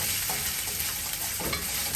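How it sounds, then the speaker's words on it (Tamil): Chopped green chilies and ginger sizzle in hot oil in a pan, a constant crackling fry with the scrape of a spoon stirring now and then. "பச்சை மிளகாய் சேர்த்து லைட்டா வதக்கிக்கலாம்."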